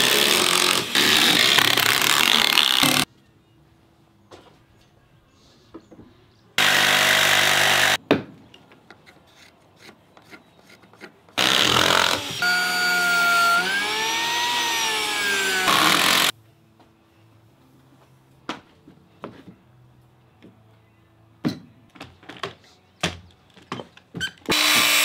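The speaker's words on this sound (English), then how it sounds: "So I'm scalloping the bottoms of the boards in certain spots just so we can keep a little bit straighter line." Power tool scalloping the bottoms of deck boards during a deck build, heard as three loud bursts of cutting, one with a shifting whine, separated by quieter stretches of tapping and handling of the wood.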